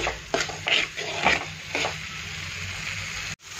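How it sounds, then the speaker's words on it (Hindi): Pumpkin dish with fresh coriander being stirred and roasted in a pan on the stove, giving a low steady sizzle with several soft scraping stirs near the start, close and fairly quiet, no voices. "कोथिंबीर डालने के बाद 1 मिनट के लिए 5 गैस पर भून लेंगे।"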